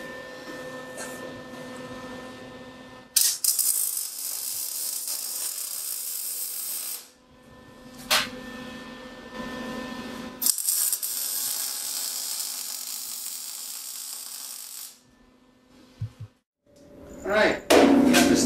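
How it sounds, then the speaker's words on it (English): Welding tacks fix the corners of a metal pan to a table, each burst a harsh, bright crackle lasting a few seconds, separated by quieter gaps with clanks and handling noise. "we're going to put this pan on the bottom, tack weld the corners, and then I'm going to weld it together"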